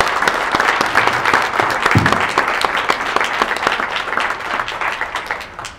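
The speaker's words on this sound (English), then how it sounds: "you could applaud her in that section" An audience at a K-12 ceramics exhibition reception applauds. The clapping is crisp, steady and sustained throughout, with distinct individual claps standing out from the crowd.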